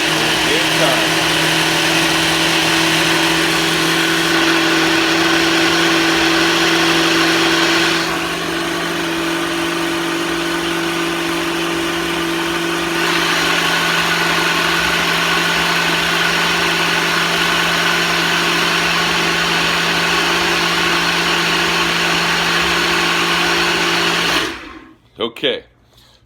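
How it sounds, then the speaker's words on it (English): A blender whirs continuously while mixing a 1000-calorie morning shake, a loud steady motor drone that shifts pitch once or twice before cutting off abruptly near the end. "So I'm throwing in the blender."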